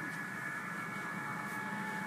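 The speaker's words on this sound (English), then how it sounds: "You could probably hear some phase shift keyed signals in the background." Phase shift keyed ham radio signals warbling faintly as steady tones beneath a constant background hiss in a room full of computers, continuous and distant.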